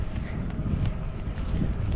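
A light breeze buffets the microphone while riding a gravel bike on a warm day near Lille, giving a steady low rumbling whoosh throughout, with no voices.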